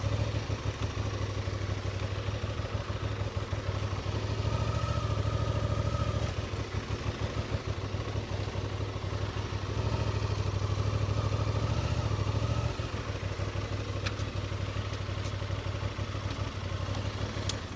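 A Honda Transalp 750 motorcycle runs steadily at low speed through a tight turn, its engine thrumming close and continuous with a slight rise and fall in intensity throughout.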